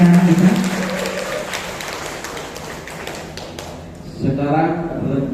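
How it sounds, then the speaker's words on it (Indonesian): Applause from the audience at a school quiz competition final fades gradually. A voice comes in toward the end. "Tepuk tangan dulu Bapak Ibu yang mulia untuk menyemangati anak kita."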